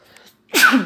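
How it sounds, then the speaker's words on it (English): A single sharp sneeze bursts out after a brief quiet moment, close and loud. "Oh, I had to sneeze."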